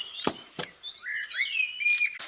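Birds near a cottage door give high chirps and thin whistling calls, close and fairly clear, with a couple of soft taps mixed in and no talking.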